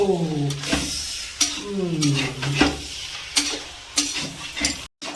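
A spoon stirring rice and fish head curry made with a large catla fish head in a hot pot, a series of distinct scraping strokes with a soft sizzle between them, close and fairly quiet.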